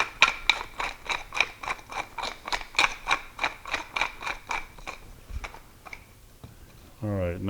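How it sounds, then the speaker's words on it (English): A pepper mill grinds fresh black pepper with a quick, regular series of crisp ratcheting crunches, close and fairly quiet, for about five seconds; a voice starts briefly at the very end. "And fresh ground black pepper."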